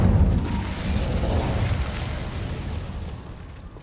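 Incendio fire spell cast in the Hogwarts Legacy video game, a loud whooshing burst of flame that booms at the start and then roars on as a sustained crackling rumble, with no voices.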